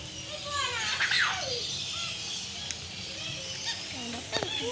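Birds calling inside an aviary at a resort, several short chirps and whistles, some near and some farther off, over background chatter and children's voices.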